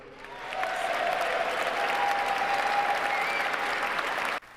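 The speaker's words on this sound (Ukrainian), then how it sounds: "Аудиторія раз за разом піднімається і аплодує 47-му президенту стоячи" A large audience breaks into sustained applause for the 47th US president's speech, rising in a standing ovation; dense, steady clapping swells after a brief start and carries on evenly before cutting off abruptly.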